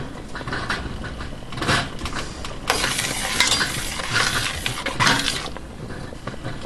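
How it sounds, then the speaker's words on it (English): Boiling pineapple jam is stirred in a pot, giving wet bubbling and sizzling with irregular scraping stirs that swell in loud bursts close by. "what I want to do is wait for it to continue boiling while I stir it."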